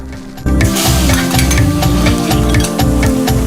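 Loud, close frying of crushed ginger and garlic in hot oil, with a rhythmic scraping stir repeating every half second over a constant crackling sizzle.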